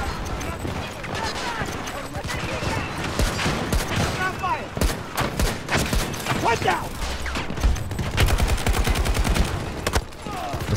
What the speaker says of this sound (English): How am I getting shot around the corner?